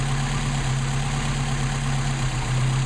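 A Mercedes 190SL engine idles on Solex carburetors, a steady low hum with a constant drone, close and even, with no speech over it.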